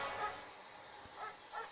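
A dog gives a few short barks and yips, three brief bursts spaced unevenly over a faint background hiss, heard at moderate distance with no talk.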